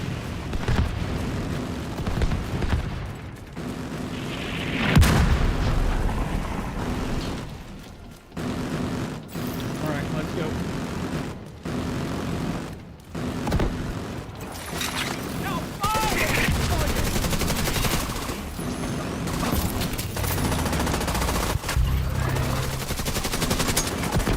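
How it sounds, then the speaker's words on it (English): Autocannon and mortar fire in The Division 2 rumble and crack through a dense firefight, with bursts of shots and booming impacts throughout, partly under a speaking voice. "The autocannon seems to be firing blind."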